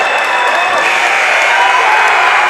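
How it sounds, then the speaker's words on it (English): A high school varsity boys basketball crowd at Portland High against Deering, cheering and applauding loudly and continuously after a basket, with voices mixed into the roar. "The crowd goes wild."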